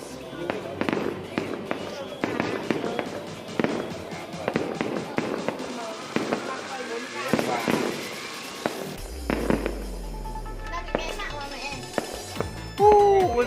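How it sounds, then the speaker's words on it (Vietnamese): Lunar New Year's Eve fireworks over the highland town of Hoàng Su Phì, Hà Giang, Vietnam, bursting in a rapid irregular series of booms and crackles, with a deeper rumbling stretch midway and voices talking nearby. "Tiếng pháo rầm rầm rầm."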